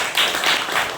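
Applause from a classroom group after a quiz team gives a correct answer, a steady burst of many hands clapping close by for about a second.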